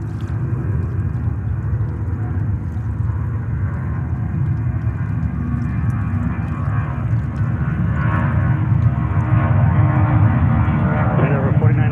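A Delta airliner bound for Mexico City departs JFK airport, its engines a loud, steady, broadband roar that swells slightly toward the end, heard continuously from nearby.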